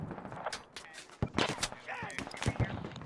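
Gunfire in Squad during a 100-player battle, with several sharp shots and short bursts cracking at mid distance amid busy battlefield noise and faint voices.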